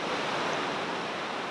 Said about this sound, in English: Colorado River. You see the rapids.